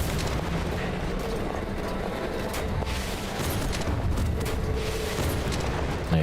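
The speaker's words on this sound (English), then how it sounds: "Turns out you just need to use your rocket launcher" Rocket launcher blasts in the game Beyond Citadel: sustained roaring explosions and rumbling detonations, loud and dense, with a few sharper impacts and no talking.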